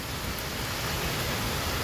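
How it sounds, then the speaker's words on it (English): Fine, misty rain falls outside during a storm, producing a continuous, even, broadband hiss at moderate level with no distinct drops or voices. "This is some crazy looking rain."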